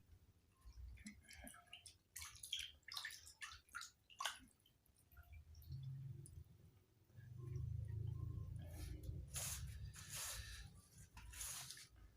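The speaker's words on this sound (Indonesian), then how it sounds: "Cuci tangan dulu ya" Hands washed under running water after a meal, with splashing and rubbing that start faint and patchy, then grow into a steadier close stream with wet squishing.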